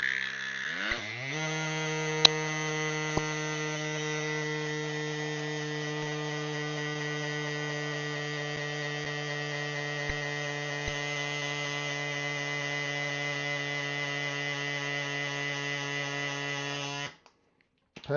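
Airbank Pocket SE mini electric pump running steadily as a loud, even motor whine with a strong buzzing hum for about fifteen seconds, then switching off near the end.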